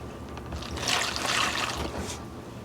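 Water poured over seedling trays in an urban garden, a steady close trickle and splash that swells in the middle and eases off, with no talking.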